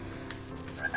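A frog croaks in the video game The Purring Quest: a quick burst of short croaking calls, fairly faint and close, with no speech.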